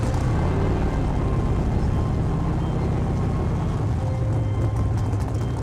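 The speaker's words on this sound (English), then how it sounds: "I mean, there's nothing like hearing that V8 roar." The Batmobile's petrol V8 engine rumbles continuously, a deep steady low-pitched drone with a broad noisy wash above it, heard alone without talk and holding an even level throughout.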